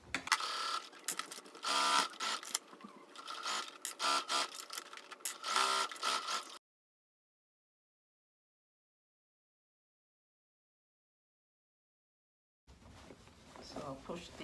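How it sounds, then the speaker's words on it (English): A sewing machine stitches around the sides of a fabric drawstring bag, running in dense rapid bursts for several seconds, then stopping in silence before starting again near the end. "I'm just going to sew around the bag."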